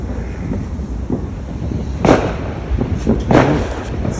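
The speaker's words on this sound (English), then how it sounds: "Smoke bomb." A smoke bomb going off outdoors at a July 4th backyard barbecue gives a few scattered bangs and pops over steady wind and crowd noise.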